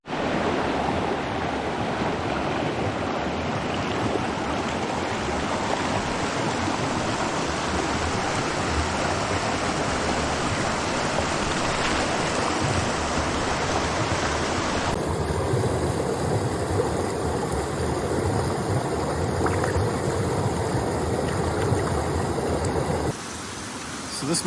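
Steady roaring rush of a mountain stream flowing through a gorge, a year after Hurricane Helene, loud and continuous throughout, with a brighter hiss joining in the later part before the level drops slightly at the end.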